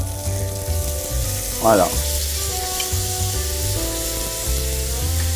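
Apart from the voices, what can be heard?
food sizzling while basted in a frying pan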